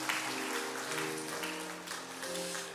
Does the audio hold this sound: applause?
yes